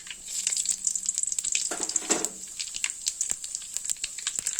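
Mustard seeds and cumin crackling in hot oil for a village-style drumstick leaf sambar, with quick irregular pops and spits over a steady sizzle, close and moderately loud, with no talk.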